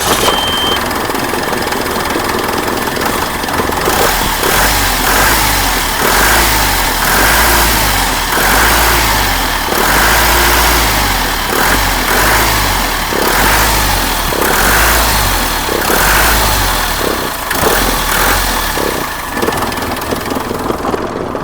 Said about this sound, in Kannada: ಬನ್ನಿ ಇವಾಗ ಗಾಡಿನ ಒಂದ್ಸಲಿ ನಿಮಗೆ ಸ್ಟಾರ್ಟ್ ಮಾಡಿಬಿಟ್ಟು ಇಂಜಿನ್ ಸೌಂಡ್ ಯಾವ ಥರ ಕೇಳಿಸುತ್ತೆ